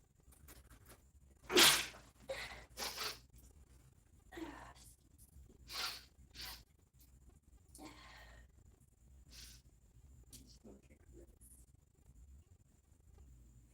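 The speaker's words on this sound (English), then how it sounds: "Sneeze." A single sharp sneeze bursts out close by, followed by quieter breathy rustles and soft sounds in a quiet room.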